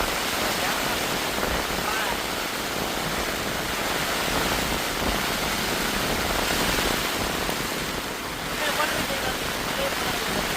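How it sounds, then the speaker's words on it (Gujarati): Steady rain pours down over a village, a dense, even hiss that holds at a constant loud level from start to finish with no pauses. "વરસાદ આવ્યો"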